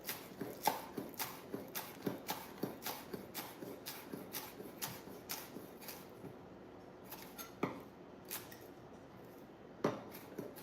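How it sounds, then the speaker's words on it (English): A knife chops ingredients for vegan miso soup on a cutting board in a home kitchen, with quick, close, crisp taps in steady bursts that slow to scattered single chops. "keep on chopping"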